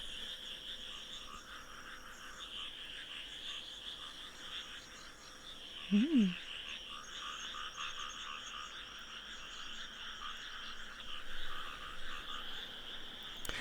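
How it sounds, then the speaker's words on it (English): Frogs croak at night in rural Japan, a dense steady chorus of trilling calls carrying from a distance, with one nearer, louder croak standing out briefly midway. "The frogs are floating in the air."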